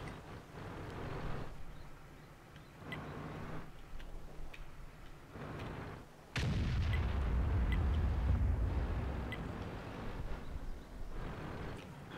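Heavy tank cannon fire in World of Tanks breaks out as a sudden loud boom with a long rumbling roar, following earlier stretches of faint ticking and distant shots.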